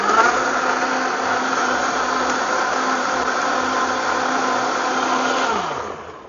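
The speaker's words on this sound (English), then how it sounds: "And then I'm gonna blend this in my Vitamix." A Vitamix blender whirs loudly and steadily at full speed, then winds down as it is switched off near the end.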